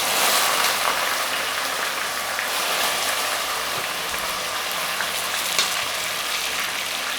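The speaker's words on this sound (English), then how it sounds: "So it's time to quickly add the beef." Beef hits dark caramelized sugar in a pot for Jamaican stew beef, setting off a loud, steady broadband sizzle and crackle that holds unbroken throughout with no voices.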